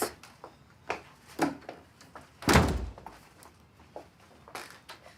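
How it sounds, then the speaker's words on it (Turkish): A door is pulled shut indoors during a tense domestic drama scene, landing as one heavy, close thunk midway through, surrounded by lighter knocks and shuffling movement. "Kapıyı kapat."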